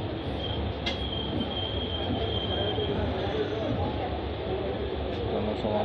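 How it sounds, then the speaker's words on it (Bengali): Rampurhat Express pulling into Bardhaman junction, a steady rolling rumble of wheels on rails with a thin high squeal of brakes or wheels, set against background station noise and a voice. "এই বর্ধমান স্টেশনে ট্রেন ঢুকে যাচ্ছে"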